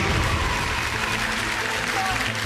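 Applause from a studio audience after a dive from the board at a televised diving competition, a steady dense clapping wash lasting throughout at moderate loudness.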